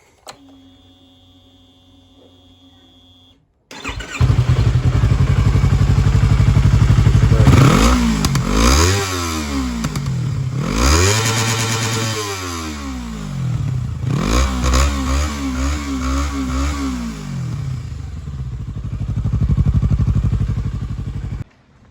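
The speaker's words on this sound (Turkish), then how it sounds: "Şu an egzoz sökülük katalizörlü haliyle çalıştıralım." A Yamaha R25 motorcycle with its exhaust removed, running on the catalytic converter, cranks and starts, then idles loudly and revs repeatedly, its pitch rising and falling. The exhaust is close and rough.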